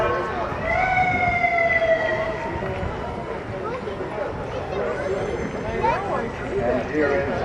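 A state police car sounds its siren while rolling in the Wellesley Veterans' Parade, the wailing tone rising and falling steadily over crowd noise and talking nearby.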